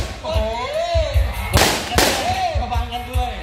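Firecrackers set off at a Buddhist Lent-end giant hot-air lantern launch contest in Isaan, Thailand, give two sharp loud bangs amid crowd chatter, with people talking and calling out throughout.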